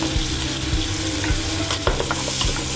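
Onion hitting hot oil in a frying pan with garlic and browned pork, giving a steady dense sizzle with a few stirring clicks and scrapes, close and continuous for about three seconds with no talk.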